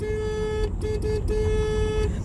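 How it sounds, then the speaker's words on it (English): A vehicle horn sounds in a steady blare broken by short gaps into a rhythmic pattern, over a low engine rumble. "I have a particular pattern that I honk my horn"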